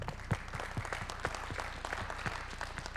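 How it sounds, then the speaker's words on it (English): An audience at a live talk on 360 filmmaking gives a round of applause, a steady patter of many hands with a few sharper claps standing out, moderately distant and fairly quiet. "One more hand of applause for him."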